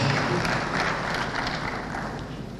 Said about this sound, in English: can we give him a big round of applause here?